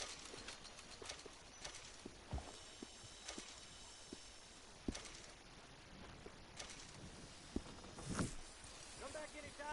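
Horse hooves clip-clop in Red Dead Redemption 2, with irregular soft hoof knocks and footsteps under low game ambience, while people talk in the scene.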